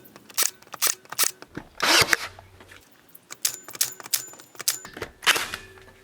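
Makita and Ryobi cordless brad nailers fire nails at a mid depth setting, giving a series of sharp, close snapping shots with a brief motor whir in between, spaced irregularly.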